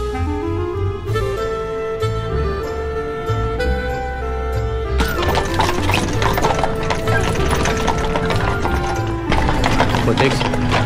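Horse hooves clip-clop beside horse-drawn carriages, rhythmic hoof strikes mixed into a loud, busy street scene with music and people talking over it.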